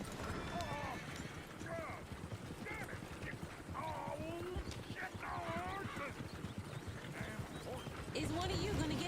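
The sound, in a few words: horse hooves clip-clopping in a video game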